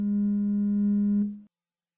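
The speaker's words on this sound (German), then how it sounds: "zuerst werden Sie durch einen Benachrichtigungston auf die eingehende Nachricht aufmerksam" A WhatsApp incoming-message notification tone plays on a computer, one steady clean tone held for over a second before cutting off, alone with no other sound.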